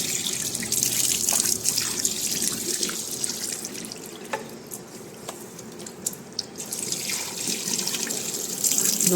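Tap water runs steadily into a sink while a freshly cleaned faucet is rinsed, a continuous splashing flow with small drips, close and alone with no talk.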